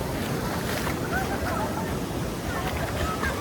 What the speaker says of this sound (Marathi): नाही बघा पाण्याचा प्रवाह खूप चालू आहे इकडं